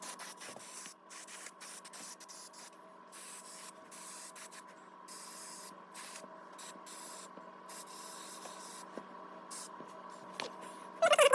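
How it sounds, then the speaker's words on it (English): Aerosol spray hisses steadily onto carburetor parts from a 1990 Kawasaki Ninja ZX7 motorcycle, a long continuous close spray with brief pauses and a louder burst near the end. "spray these off a little bit, just that way when I put them in the ultrasonic cleaner"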